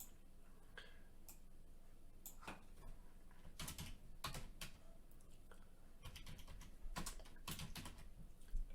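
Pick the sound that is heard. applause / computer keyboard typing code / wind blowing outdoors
computer keyboard typing code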